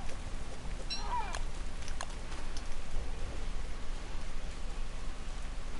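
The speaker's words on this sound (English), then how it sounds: "It's been raining for like ever." Steady hiss of rain falling in Don't Starve Hamlet, continuous and even throughout, with a brief cat-like meow near the start.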